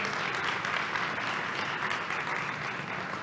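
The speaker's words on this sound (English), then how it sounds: "So a big round of applause for Emary." Audience applause at an in-person roundtable event, a dense, steady wash of clapping from a crowd that holds loud and even for the whole stretch, easing only slightly at the end.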